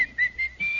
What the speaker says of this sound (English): You really puckered up there and gave us the old whistle, didn't you?